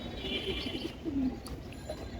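A three-to-three-and-a-half-year-old fancy pigeon at a home loft coos softly and repeatedly, its low burbling calls close but quiet over faint background noise, with no talking.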